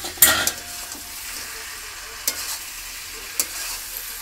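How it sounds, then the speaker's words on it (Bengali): Meat stir-fried in a pan, a steady close sizzle broken by a few sharp scrapes and knocks of a spatula against the metal. "মাংসটা দিয়ে কষা হচ্ছে"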